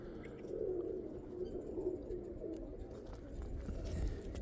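Roller pigeons coo softly at a loft, a low, murmuring warble repeating over a steady background of outdoor noise, with no voices.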